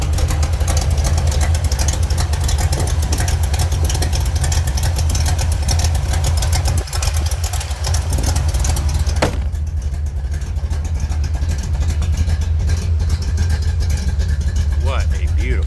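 A freshly restored 1970 Chevrolet Corvette convertible with a 350 V8 and four-speed idles loudly and steadily up close, with a brief dip partway through, while a person talks over it.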